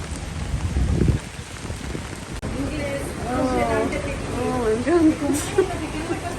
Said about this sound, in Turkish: dışarıda şakır şakır yağmur yağmaya devam ediyor